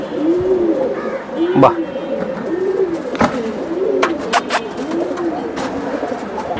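Pigeons at a loft where young squabs are kept, including Pankhi-type birds, cooing in repeated soft rolling phrases throughout, with clicks and rustling nearby and a brief spoken exclamation.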